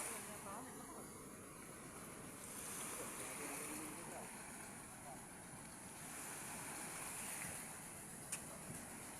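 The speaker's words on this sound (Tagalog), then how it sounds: "Laki na naman ang alon." Constant roar of big ocean surf on a rough sea with wind buffeting the microphone, waves washing steadily in the background, fairly distant and low in level.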